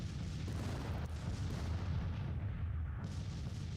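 Dense, continuous rumble of artillery fire on a Civil War battlefield in the strategy game Grand Tactician: The Civil War, a steady low booming roar with overlapping blasts and no clear gaps.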